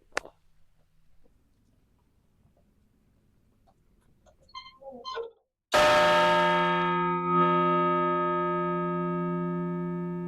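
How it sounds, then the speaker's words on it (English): An old bell cast in 1896 for the Lansing City Hall clock, struck once after quiet footsteps and rustling, ringing out loud and close with a long, slowly fading metallic hum. "let's go ring this bell."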